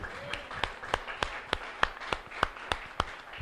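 A church congregation claps in a slow, regular rhythm, about ten distinct claps spaced evenly, fairly close and moderately loud.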